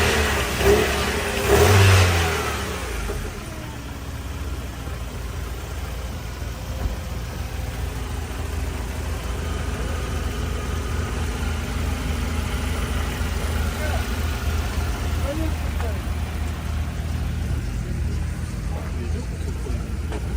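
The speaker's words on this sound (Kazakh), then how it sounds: "Моторы четкий от алып тұрады." The 2.2 engine of a 1994 car revs briefly near the start, then settles into a steady, fairly loud idle that runs for the rest of the time, with no clear talk over it.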